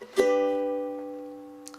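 A single soft, mellow ukulele chord plucked with a flattened thumb rings out and slowly decays, with a couple of faint taps near the end.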